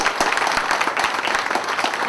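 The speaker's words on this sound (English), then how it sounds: "So big round of applause, everybody, for Pamela Sinha." An audience at a book launch applauds steadily, a dense patter of many hands clapping at once, fairly close and continuous.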